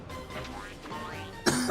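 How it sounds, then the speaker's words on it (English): A man clears his throat and gives a short cough, a harsh burst near the end after quieter breathy sounds. "I feel the need to cough."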